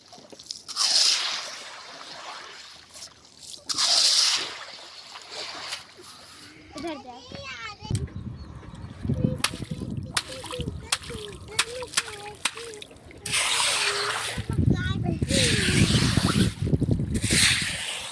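Children sweeping rainwater out with brooms, giving repeated wet swishes and splashes of varying loudness, mixed with children's voices and chatter throughout.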